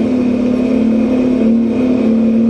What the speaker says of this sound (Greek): Φωνάζει ο κινητήρας.